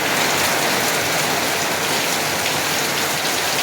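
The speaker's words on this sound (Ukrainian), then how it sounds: "І знову дощ." Steady, dense rainfall pattering on a surface, a continuous hiss that stays loud and even throughout with no other sounds.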